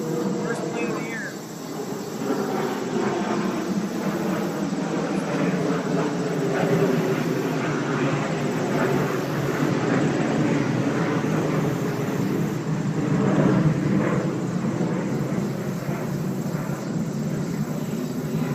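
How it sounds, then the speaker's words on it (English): A propeller or jet plane passes overhead near Ronald Reagan Washington National Airport, heard from a kayak on the water as a steady broadband roar that swells and fades over about eighteen seconds, with voices talking throughout. "Oh, plane coming. First plane of the year."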